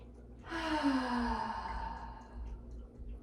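A person takes a deep inhale and then a long audible sigh-like exhale during a yoga breathing exercise, a single close breath cycle followed by quiet breathing.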